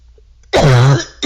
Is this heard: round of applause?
no